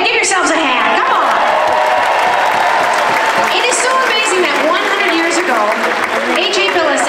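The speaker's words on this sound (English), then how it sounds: "Okay, go ahead, give yourselves a hand." Audience applause at a Canadian Tire 100th anniversary celebration, a steady dense wash of clapping from a large crowd that fills the whole stretch, with faint cheering and voices mixed in.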